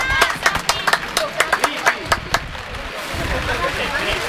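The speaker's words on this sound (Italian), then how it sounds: "un bel applauso ragazzi" At a children's fishing competition prize-giving, a small crowd claps for a child, a run of distinct nearby handclaps that thins into scattered patter and then fades under background chatter.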